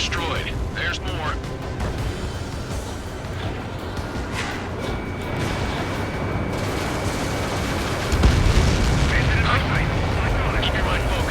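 A large blast as an enemy transport is destroyed in the air-combat game Ace Combat 7, a heavy booming roar layered over steady jet engine rumble, with a louder surge near the end and radio voices talking over it.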